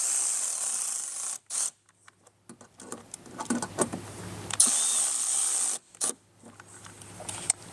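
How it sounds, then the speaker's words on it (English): Phillips head screwdriver snugging down screws while fitting a Rokblokz mud flap to a 2023+ GMC Canyon, heard as a few short scraping turns and clicks between quiet gaps, close by with no talk. "we're going to take our Phillips head and we're going to snug these down."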